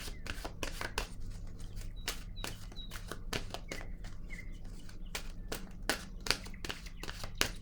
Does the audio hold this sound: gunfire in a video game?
no